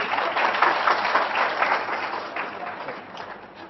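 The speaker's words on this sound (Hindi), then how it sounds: "जोरदार ताली बजाइए इनके लिए।" Dense audience applause in a hall, a steady wash of many hands clapping that swells early and slowly fades toward the end, with no speech over it.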